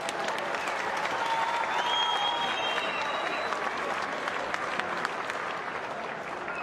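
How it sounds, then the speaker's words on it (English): Sustained applause from a boxing arena crowd after a twelve-round title fight, dense and steady throughout with faint whistles and cheers mixed in at a distance. "a nice big round of applause for Kevin Munoz"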